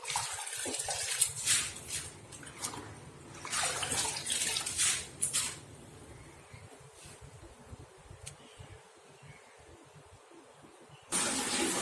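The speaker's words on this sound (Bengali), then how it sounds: "তাই ভাবলাম আজকে গমটা ধুই" Wheat grain is washed by hand in water, with bursts of sloshing and splashing broken by quieter trickling gaps and a last loud slosh near the end.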